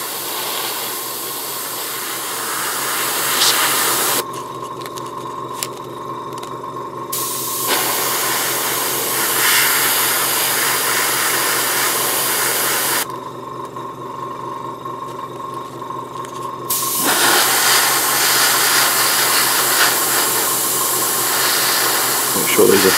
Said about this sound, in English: This is just the air now, just drying it.